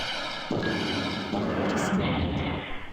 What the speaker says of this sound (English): he is equipped with compression blasters. That's what he's shooting back at me